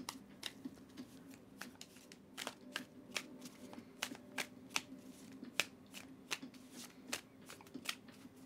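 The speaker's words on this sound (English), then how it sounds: "I'm going to go ahead and give the deck a really good shuffle for you" A tarot card deck is shuffled by hand in a quiet room, producing a rapid series of crisp, riffling snaps and flutters repeated at an irregular rhythm, close and soft.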